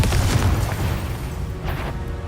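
A Confringo explosive spell blast in the Hogwarts Legacy video game, a dense booming burst at the start that settles into a continuous low rumble, with a second fainter pop near the end.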